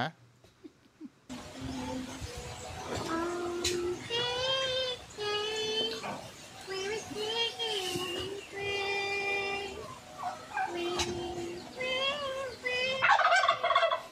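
A turkey gobbling repeatedly, several rapid warbling calls in a row, moderately near, with faint background noise between calls.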